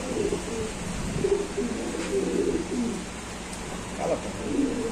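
Fancy pigeons kept in a loft coo softly and repeatedly, with low murmuring calls at moderate distance over a faint background hum.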